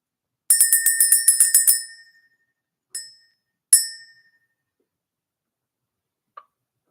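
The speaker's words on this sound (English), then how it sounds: "Let's ring the bell." A small bright bell rings in a quick run of about eight strikes, then two more single dings with pauses between, ringing out clearly alone.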